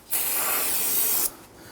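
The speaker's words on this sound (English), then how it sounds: "we're going to go ahead and clean off this unit using some spray solvent" Spray solvent hissing onto a brake master cylinder of a 2006-2014 Honda Ridgeline, one close, loud burst of just over a second, with a quieter puff after it.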